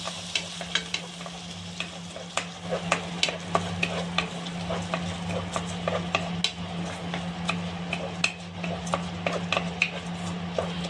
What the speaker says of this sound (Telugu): ఈ నీళ్ళని వంపేసి ఈ నేతిలో వేసి బాగా వేపుకోవాలి ఫ్రెండ్స్